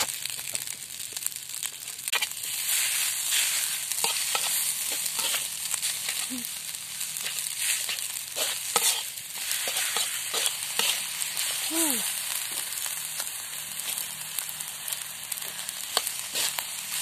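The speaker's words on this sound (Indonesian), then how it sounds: "Goreng kecap" Food sizzling and frying in sweet soy sauce over a camp stove outdoors, with steady crackle, stirring and scraping noises close up throughout, and a few faint sliding whistle-like tones in the middle.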